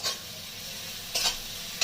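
Soaked mustard paste goes into a sizzling fish and eggplant curry in a Bengali kitchen: brief stirring scrapes and hissing bursts at the start, middle and end over a low, steady frying background.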